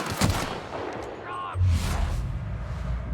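Gunfire in The Outer Worlds game, a few punchy shots and a booming low impact over about three seconds, with a brief tonal whine in between.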